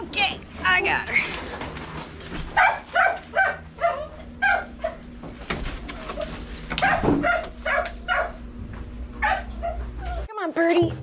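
Rescue dogs in Turks and Caicos bark, yip and whimper repeatedly at close range, in short uneven bursts, while someone talks to them throughout.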